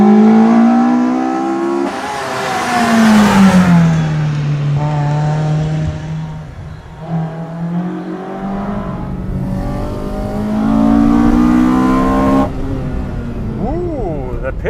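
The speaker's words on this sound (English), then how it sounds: "Ooh, the pitch of the engine is higher now." A Toyota 4A-GE engine revs hard at high RPM on a downhill pull, its pitch climbing and falling through gear changes, with people talking over the roar.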